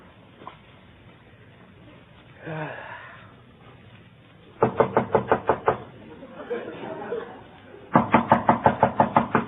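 Sound effect of knocking on a door in an old radio comedy, two bursts of about eight rapid, firm raps each, with a murmured voice and breathing heard between them.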